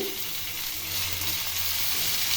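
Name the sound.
spice paste of chili, tomato and onion sizzling in pan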